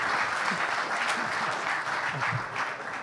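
An audience at an Italian distribution-industry convention talk show breaks into steady, even applause, heard at moderate distance for about three seconds with no speech over it.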